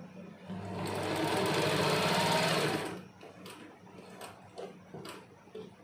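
Sewing machine stitching a salwar seam, running steadily and loudly for about two and a half seconds before stopping, followed by faint handling clicks and rustles.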